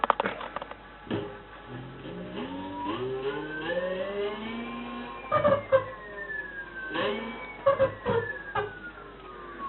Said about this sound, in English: that was the motor turning. That's just me using the thumb throttle there